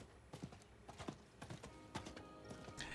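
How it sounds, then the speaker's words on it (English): Rhythmic hoofbeats of a galloping horse in the video game Diablo 4, steady and fairly close, with a brief whinny-like call mixed in and no talking. "let's hop on the old horse"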